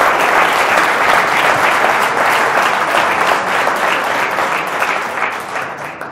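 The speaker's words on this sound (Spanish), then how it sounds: "démosle un fuerte aplauso a la intervención" A hall audience at a talk on maize breaks into loud, sustained applause, dense and even clapping that holds steady for several seconds before tapering slightly.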